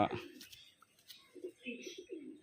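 Male Andhra pigeon giving a few soft, low coos close by after a brief rustle, quiet overall, with a person talking nearby.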